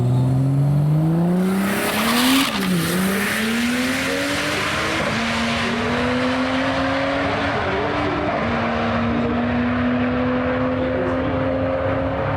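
Street cars tear down a radial drag strip in Perth, engines screaming up through the gears with audible shifts, the roar sustained and loud as they run nine-second passes.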